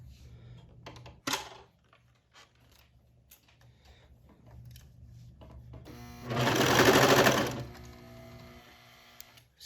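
A sewing machine stitches a ribbed cuff onto a shirt sleeve, with a few short clicks and bursts early on, then a loud, steady run of stitching for about a second before it stops and faint handling noises follow.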